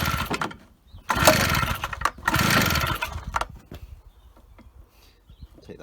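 A Stihl BR380 backpack blower engine sputters to life briefly after pull starts, with two close, loud bursts of firing roughly a second apart before the engine dies back to quiet rattles.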